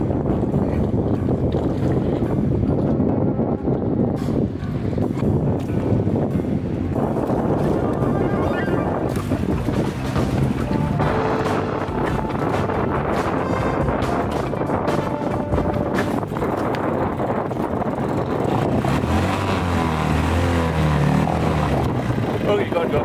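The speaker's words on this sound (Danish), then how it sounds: "Det I ser lige nu er en motor, som virker og får tømmerfloden til at bevæge sig." A small outboard motor runs steadily on a homemade timber raft crossing water beside a town, its droning hum mixed with wind buffeting the microphone and occasional talk over the top.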